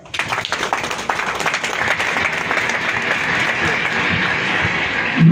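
An audience at an ADC political rally bursts into applause, with many hands clapping in a dense, loud roar. The clapping swells in the first second, then holds steady. A voice briefly cuts in near the end.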